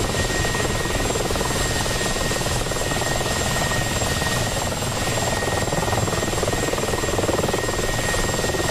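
Continuous, loud helicopter rotor and engine drone from the flight simulator DCS World, a steady chopping rumble holding evenly throughout with no talk.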